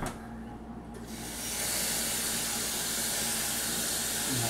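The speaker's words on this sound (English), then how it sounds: "add water to it and kind of mix it up" Water pours into a pan of drywall compound for mixing: a steady hissing, splashing stream that swells after a second and keeps running evenly, close by with no talk.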